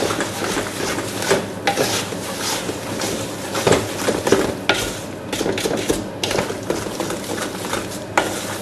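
Sugar being stirred into a thick quince fruit paste mixture in a pot, steady scraping and sloshing strokes repeating close up at moderate loudness with no speech.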